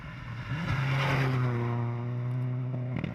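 Rally car on a special stage, a Ford Focus among the 2015 entrants, roaring close by with a strong engine tone that holds steady and then fades as it passes.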